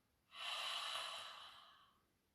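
Slow ocean-like ujjayi throat breath during a throat-chakra meditation: one long, close, breathy hiss that swells quickly, holds steady, then gradually fades over about two seconds, with no talking.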